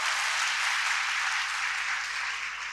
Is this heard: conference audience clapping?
yes